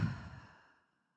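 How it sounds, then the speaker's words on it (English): A single deep, slow exhale, close and soft, fading gradually into silence within about a second. "take a really big deep breath, like truly big breath in"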